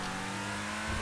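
Benefactor LM87 race car engine revving in GTA V Online, a steady loud droning engine tone throughout with a slight surge in pitch and volume near the end.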